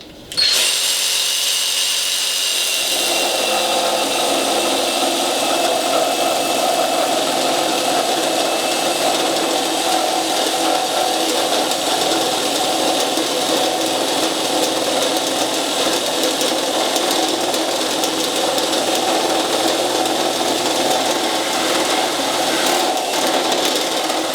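KIMO 20 volt reciprocating saw starts up and cuts into nail-embedded wood, a continuous loud, buzzing whine with gritty rasping that holds steady for over twenty seconds.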